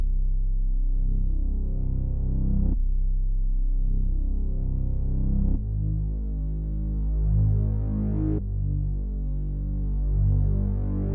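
A dark, deep trap bass pattern built in FL Studio for a beat, with sustained booming low notes that restart in four long phrases, dry and without effects.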